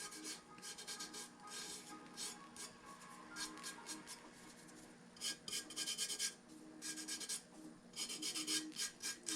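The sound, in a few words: rubbing down double-sided tape on a tumbler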